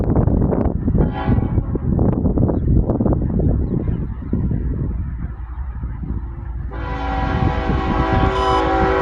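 A westbound train passes close by with a continuous rumble of wheels on the tracks, and a loud, sustained horn blast starts near the end.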